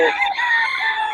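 Roosters and chickens at a farm in Bocaue crow loudly and close by, a single sustained crow filling the short moment with no talk over it.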